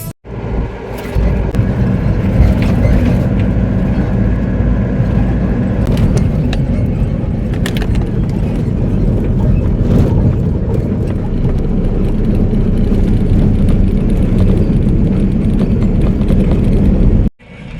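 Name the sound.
road traffic, cars passing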